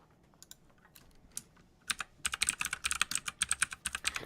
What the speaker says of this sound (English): It's not really a moment of silence if you're typing